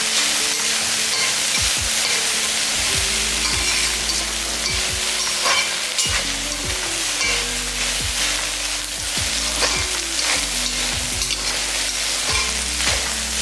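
Okra (lady finger) sautés with salt in a pan for vendakkai fry, a loud continuous sizzle broken by repeated spatula scrapes and stirring knocks.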